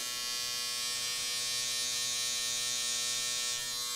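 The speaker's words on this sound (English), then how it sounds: "You notice I create a nice strong line with my clipper closed." An electric hair clipper buzzes steadily and close during a low taper fade haircut, a continuous even motor drone with a bright whine and no talk.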